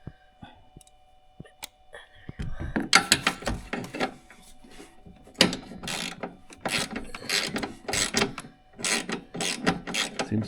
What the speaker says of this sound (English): Always put your socket on your ratchet before.